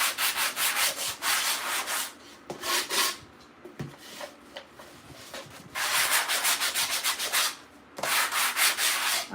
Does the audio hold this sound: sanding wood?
yes